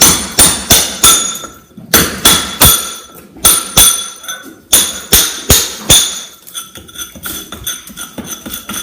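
A hammer strikes a chisel into a stone wall while chasing a channel for an electrical back box, giving sharp, loud ringing blows in quick bursts of three to five with brief pauses, the strikes lighter and denser toward the end.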